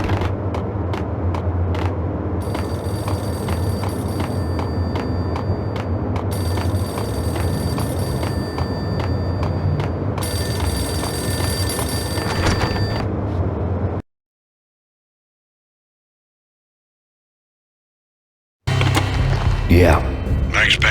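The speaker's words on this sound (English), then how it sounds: "The payphone started to ring." A payphone rings in the Max Payne video game, a steady mechanical bell trill over a thick droning game ambience, cutting out into silence before loud game noise returns.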